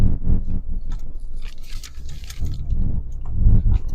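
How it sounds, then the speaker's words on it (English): Close, wet chewing of lunch food during a drive to work, with irregular crunchy bites and mouth noises in uneven bursts, no talk. "And chewing."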